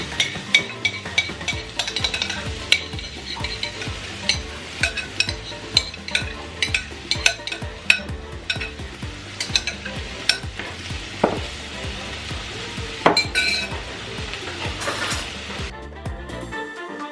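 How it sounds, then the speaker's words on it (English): Minced garlic and cooked chicken with onion sizzle steadily in a hot pan with sesame oil, while a utensil stirs and clinks against the pan in frequent irregular scrapes and taps. "now we're adding 2 cloves of minced garlic"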